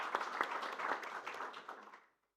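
Audience applause at a conference on European information integrity and the war in Ukraine, a steady patter of many hands clapping in a hall that fades out after about two seconds.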